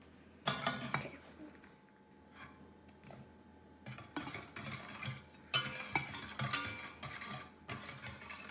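Dry ingredients being stirred into wet chocolate cake batter in a bowl, giving close, intermittent bursts of spoon-against-bowl scraping and clinking, quiet at first and then more frequent.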